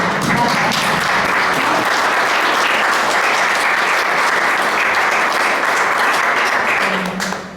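An audience at a literary talk breaks into sustained, dense applause, loud and close, keeping an even level before fading out at the end.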